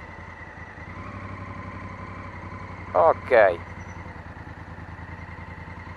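A motorcycle idling at close range in a town parking square, a steady low rumbling throb throughout, with a short spoken word briefly rising over it partway through.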